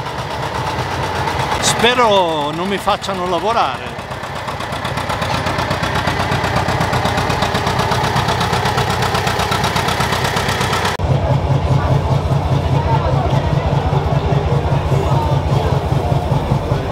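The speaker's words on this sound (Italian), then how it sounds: "Stiamo vedendo l'arrivo" A tractor engine rumbles and idles steadily throughout at a threshing festival at a rice mill in Galliate, with a deeper rhythmic chugging in the second half; someone speaks briefly in Italian over it near the start.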